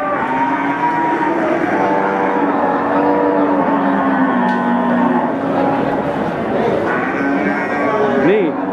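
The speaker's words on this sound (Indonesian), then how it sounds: "Dan juga ini ada sapi bekon." Several Limousin cattle moo loudly and repeatedly, long drawn-out lowing calls overlapping amid a busy, noisy cattle market in Central Java.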